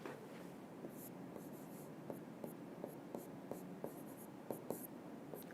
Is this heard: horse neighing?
no